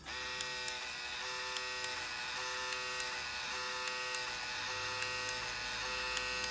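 A small printer buzzes and whirs steadily, with regular faint clicks ticking through the mechanical hum.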